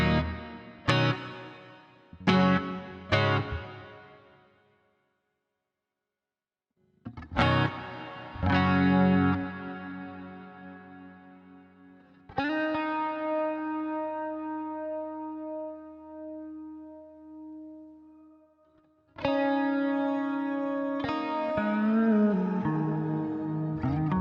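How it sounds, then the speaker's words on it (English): Electric guitar played through a BOSS GX-100 with its ambience reverb: clipped chord stabs, then long sustained chords that bloom and linger, washing into a soft, spacious decay. "Ambience, these are different to the regular reverb."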